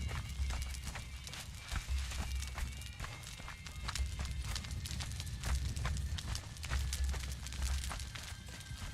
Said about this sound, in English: Looks like he sells horses too.